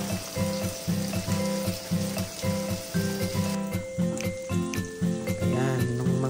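Pork belly pieces frying in a pan for Filipino pinakbet, a steady loud sizzle and crackle of hot oil close up, continuous throughout with faint stirring.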